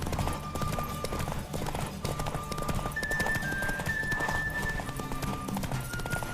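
A horse races at full gallop in The Witcher 3, its quick continuous hoofbeats blended with game music and occasional neighing.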